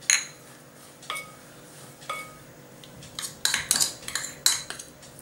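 Manchurian ball mixture with flour, ginger, garlic and green chili being stirred in a bowl, with a spoon knocking against the bowl in spaced clinks that grow into a busier run of scraping taps, close up and without speech.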